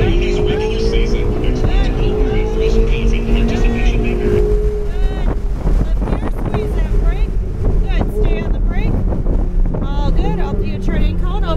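A supercar accelerates on a race track, its engine tone droning and climbing under heavy wind rush, while a voice talks over it.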